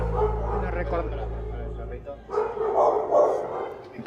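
A dog barks repeatedly in a yard while someone sloshes water and mops the ground, the barks mixed under a person speaking nearby.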